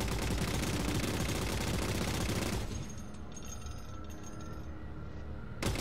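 Sustained rapid turret fire in Halo 4 on Xbox 360, a dense continuous roar of shots that cuts off partway and leaves a quieter mix of game effects, with a brief sharp burst at the very end.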